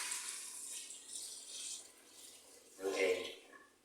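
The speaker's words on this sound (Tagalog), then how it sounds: "Isang pitsil na tubig." Water poured from a pitcher into a container for homemade salted egg brine in a kitchen, a steady splashing rush lasting a few seconds with a brief voice or clatter near the end.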